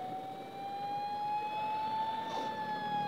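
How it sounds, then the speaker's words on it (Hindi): An ambulance siren wails steadily on a busy road near the Ganga Barrage, heard from a moving motorbike over constant traffic and wind noise, with no talking. "एम्बुलेंस को रास्ता दे दो यार।"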